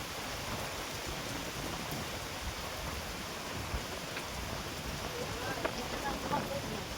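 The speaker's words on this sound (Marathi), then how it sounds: "बाहेर पाऊस पडतोय" Rain falls outdoors during cooking over a traditional wood-fired stove: a steady, soft hiss of rainfall on surfaces, even and unbroken, with a few faint taps and no clear voices.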